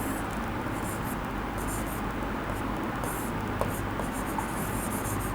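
A pen scratches across paper while a Hindi application letter is written out, a soft, close, continuous rubbing and scraping with small irregular strokes and brief lifts, steady throughout.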